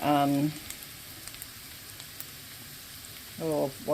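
Onion and garlic sautéing in about a quarter cup of bacon fat, a soft steady sizzle with small pops, with someone speaking briefly at the start and end.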